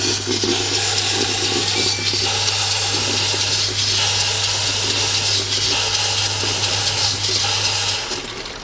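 An Oase pond filter on a swimming-pool koi pond setup runs its cleaning cycle, with water flushing and rushing loudly and steadily beneath a constant mechanical hum that cuts off near the end.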